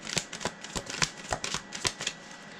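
Tarot cards are shuffled close up, a quick series of soft riffling snaps and flutters, about ten crisp bursts in a brisk uneven rhythm, fairly quiet with no talking.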